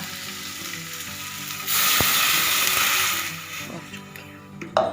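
Water poured into a hot pan of frying spices for Indomie rempah (tinuktuk from Simalungun) sets off a sudden loud hissing burst that lasts over a second before fading back to a quieter simmer, with a clink near the end.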